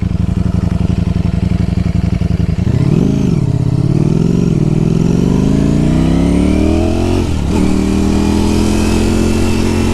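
A 2020 Ducati Streetfighter V4 S ridden on a gravelly road, its engine droning loud and close, then blipping and climbing in pitch through revs, with a sharp crackling downshift burst near the end before the note settles again.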